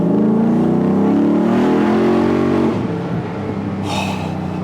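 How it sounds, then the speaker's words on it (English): Engine of a 1968 Ford Bronco restomod revving hard and loud up close, a steady rising drone that drops off after a few seconds into a lower idle-like rumble, with a brief hiss near the end. "Half or more of the experience for me is this sound Right. that a car or truck makes"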